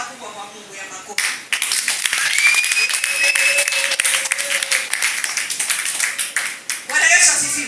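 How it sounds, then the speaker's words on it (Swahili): A church congregation breaks into loud, sustained clapping as an offering of praise, a dense wash of many hands starting after a brief quiet moment, with a voice and a tone sounding faintly under it. "Hebu peana sadaka kubwa kwa Mungu ya makofi."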